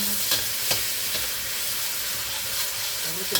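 Garlic and onion fry in a pan for an ampalaya dish, giving a steady hissing sizzle with a few sharp clacks of stirring and no voices over it.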